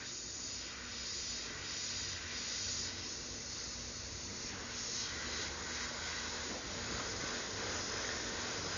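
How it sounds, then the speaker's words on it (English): Steady hiss of an airbrush blowing air to dry candy paint, a continuous, even rush of air lasting the whole stretch with no pauses and no voices. "Sometimes you might want to stand back and blast a little air in there."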